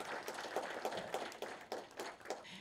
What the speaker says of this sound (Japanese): ぜひ監督、選手の皆さんに大きな拍手お願いいたします